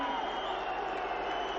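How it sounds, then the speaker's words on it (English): Boxing arena crowd at Joe Calzaghe vs Chris Eubank, October 1997, reacting to a standing count in the final round: a steady, dense roar of many voices, fairly loud and unbroken throughout, with no clear single speaker. "The crowd don't like it."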